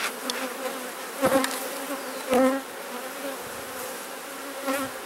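Honey bees buzz steadily all around an open hive during an inspection, close by, with a few louder passes as individual bees fly near.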